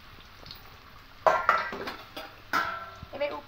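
Samosas are lowered into lightly warmed oil in a wok, setting off close bursts of bubbling and sizzling that flare up, fade, and flare again as more pieces go in.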